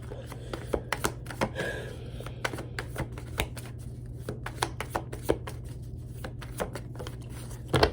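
Tarot cards being shuffled by hand before one more is drawn: a close, quiet run of rapid papery flicks and taps, steady for several seconds with a firmer snap at the end, no talking.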